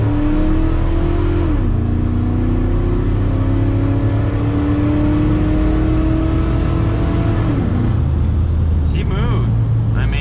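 A Dodge Dakota R/T fitted with a Mopar M1 intake pulls hard at full throttle, its engine drone rising steadily, shifting and climbing again, heard from inside the cab with road rumble underneath.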